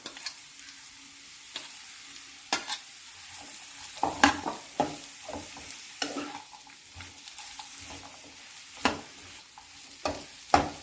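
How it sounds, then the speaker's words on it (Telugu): Bottle gourd pieces and sliced onions fry in a pan, a soft steady sizzle broken by repeated scraping and clacking strokes of a spatula as the vegetables are stirred, close and alone. "ఉల్లిపాయ ముక్కలు ఇలా కాస్త వేగిన తర్వాత ఆనపకాయ ముక్కలను కూడా ఇందులో వేసేసుకోవాలి"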